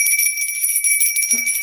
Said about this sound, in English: Let me ring the bell on that one.